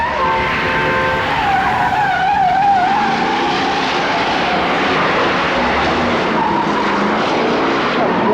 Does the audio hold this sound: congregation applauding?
no